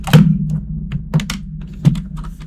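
A computer keyboard is tapped at close range in a quiet room: a few separate, thudding keystrokes spaced irregularly, with a low electrical hum underneath and no talking.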